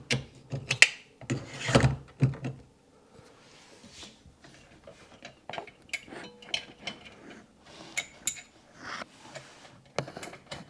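A wrench tightens a part deep inside a Seadoo 4-TEC jet ski engine bay, giving quick close ratcheting clicks and metallic taps in short uneven bursts, with quieter pauses between them.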